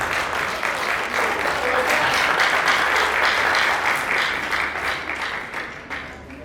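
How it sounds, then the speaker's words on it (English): A large crowd at a cultural day celebration claps and cheers, a loud sustained wave of applause that swells and then slowly tapers off. "can you clap for yourself?"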